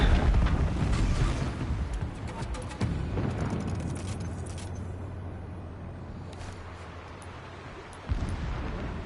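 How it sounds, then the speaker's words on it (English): Distant explosions rumble in the Horizon Zero Dawn game world, a continuous low, muffled booming texture with a sharper thud near the end, no talk over it. "Explosions in the distance."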